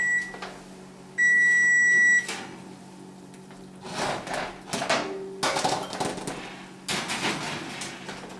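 Oven beeps as speed bake mode is switched on for cheese pizzas, several short electronic tones followed by a long sustained beep, then clattering and bumping of the oven door and racks.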